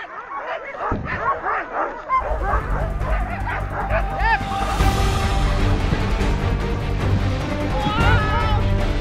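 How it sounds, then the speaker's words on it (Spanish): Several excited dogs bark, yip and whimper close by throughout, loud and continuous, while a person talks over them and a low engine-like rumble builds underneath. "¡Están los perros muy nerviosos!"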